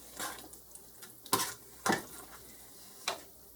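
Ground beef stroganoff simmering in a pan, with a faint low sizzle under occasional clinks and scrapes of a utensil stirring against the pan, a few louder knocks standing out.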